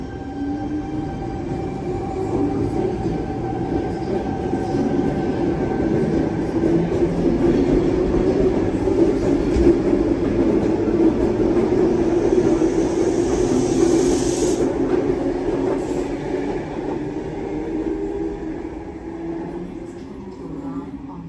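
A commuter train rumbles steadily past nearby at Chatswood, Sydney, in the early morning for about twenty seconds, a continuous roar of wheels on rails with faint squeals, swelling then easing off.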